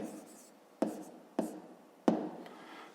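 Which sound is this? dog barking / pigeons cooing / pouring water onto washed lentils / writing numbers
writing numbers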